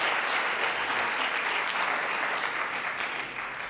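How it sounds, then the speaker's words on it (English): An evening audience at a talk on a porcelain garden applauds the speakers, a continuous, evenly dense burst of clapping that holds for several seconds and eases off slightly at the close. "please give a round of applause to our speakers"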